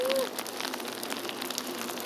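Steady rain falls across Seoul Olympic Park, a dense even hiss of drops spreading over the whole stretch, with a brief faint tone near the start.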